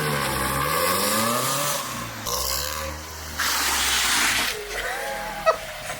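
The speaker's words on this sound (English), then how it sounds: "This is my 2002 Nissan Sentra STR Spec V." A 2002 Nissan Sentra Spec V's engine runs with a steady mid-range drone that rises and falls as the revs change, loud and close throughout with no talking.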